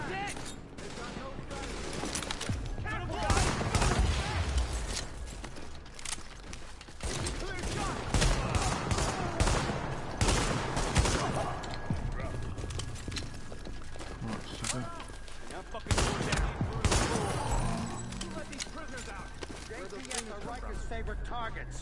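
Gunfire in the video game The Division, with rapid repeated shots and bursts running throughout at moderate loudness, mixed with speech and in-game noise.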